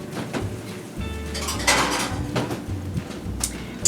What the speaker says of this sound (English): So I'm going to put my skillet in my oven